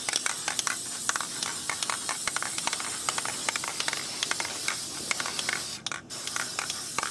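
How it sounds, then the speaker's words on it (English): Workable fixative sprayed from an aerosol can over a bird drawing, a steady hissing spray with rapid short bursts and one brief pause near the end. "I'm just gonna spray a little workable fixative on top."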